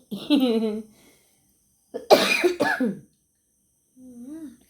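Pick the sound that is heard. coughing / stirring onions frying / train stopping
coughing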